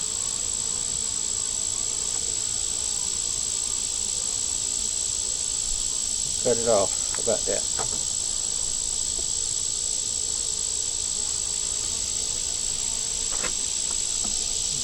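Honeybees buzz steadily around an opened beehive while a keeper works it with a smoker, a dense insect drone filling the whole clip, with a few brief nearby voices speaking over it partway through.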